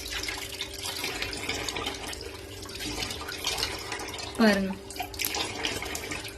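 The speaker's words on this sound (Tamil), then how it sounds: "இப்போ வந்து ஃபேஸை நல்லா வாஷ் பண்ணிடலாம்." Tap water runs steadily into a sink during face washing, a continuous close splashing rush with a brief sharper splash partway through, while someone speaks over it.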